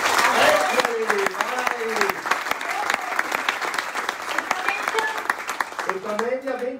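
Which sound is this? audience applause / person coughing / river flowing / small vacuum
audience applause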